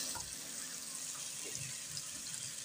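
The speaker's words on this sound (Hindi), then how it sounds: "तकरीबन 3 गिलास के करीब मैं पानी डाल रही हूँ" Water being poured into a pot of fried mutton for mash ki daal aur gosht, a steady splashing, trickling stream that runs evenly throughout without speech.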